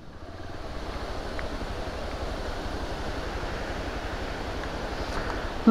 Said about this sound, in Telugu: look at that water falls